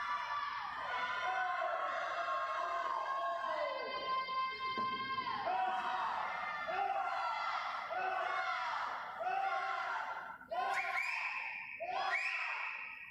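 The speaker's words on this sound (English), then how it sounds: "We hear everybody cheering him now in the breaststroke." Crowd at a youth swim meet cheering and shouting for a young swimmer during a breaststroke race, a dense, continuous wall of voices and whoops in an indoor pool, with children's shouts rising and falling throughout.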